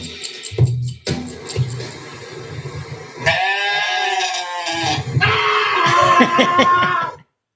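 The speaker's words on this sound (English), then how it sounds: "So that was a screaming goat." A goat lets out loud, human-like screams, several drawn-out bleating cries in a row after a few short noisy bursts, close and prominent, with no talking over them.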